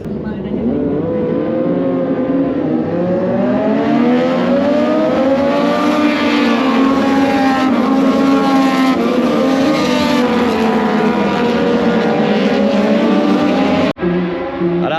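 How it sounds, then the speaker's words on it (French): Moto2 racing motorcycles scream past on a circuit in Indonesia, a loud continuous high-revving engine roar with rising and falling pitch as bikes pass, ending with a brief sharp cut. "C'est parti pour les motos 2."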